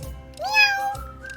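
A single drawn-out meow, rising then falling, close and clear, seemingly a voice imitating a cat during an animal-sounds game.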